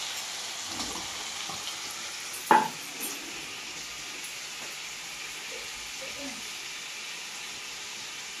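Chickpeas and paneer with spices fry in a pan with a faint, soft sizzle, broken by one sharp clatter of a utensil against the pan and a few light stirring sounds.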